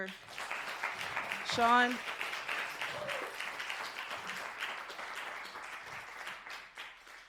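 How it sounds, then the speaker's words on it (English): A live audience applauds the host at a spoken-word event with sustained, moderately loud clapping, while a voice briefly speaks over it near the start. "So one more round of applause for"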